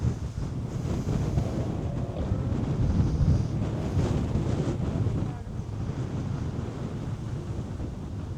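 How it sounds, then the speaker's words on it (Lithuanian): Strong wind buffets the microphone outdoors in Trakai, a steady low roaring rush that swells and eases without a break, with no voices. "šiaip labai stiprus vėjas"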